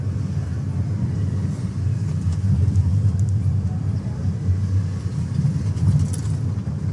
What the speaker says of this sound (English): Let's increase the speed and upshift into third.